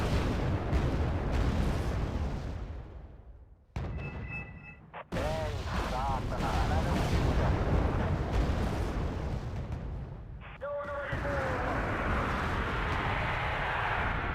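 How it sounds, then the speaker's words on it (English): Artillery fire in Wargame Red Dragon booms in repeated heavy blasts and rumbling impacts, with brief quiet gaps and small tonal game cues between barrages, continuous and loud throughout. "Oh, that's a lot of arty."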